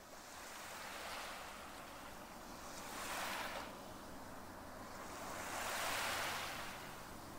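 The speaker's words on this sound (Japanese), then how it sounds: "聞こえるものは波の音だけで" Ocean waves wash onto a long sandy beach, soft surging swells rising and falling about every three seconds, faint and distant with a light wind hiss and no voices.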